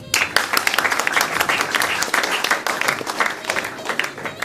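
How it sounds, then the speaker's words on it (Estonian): An audience claps at a sports event awards gathering, brisk individual hand claps merging into steady, lively applause, with a few louder close claps standing out. "Aplausi."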